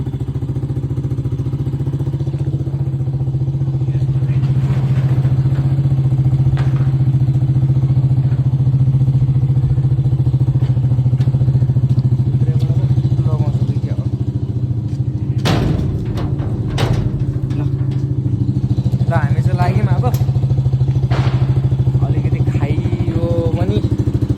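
A motorcycle engine drones steadily throughout a ride on a rough road, with a constant low hum and scattered clatter and knocks. Occasional voices come through faintly beneath the engine.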